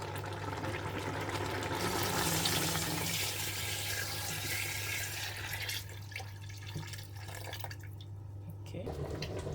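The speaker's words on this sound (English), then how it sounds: "let's wash our fish with hot water and salt" Fish being washed with hot water and salt while cooking ofe akwu, with running water splashing and trickling steadily under a low hum, close and continuous.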